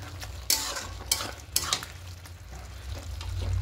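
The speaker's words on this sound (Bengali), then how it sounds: "এবার এখানে ভেজে রাখা চিংড়ি মাছগুলো দিয়ে দেবো। দিয়ে খুব ভালো করে মিশিয়ে নেব।" Fried prawns are stirred into spinach and potatoes in a pan, three sharp spatula scrapes in quick succession over a low, steady sizzle, close by.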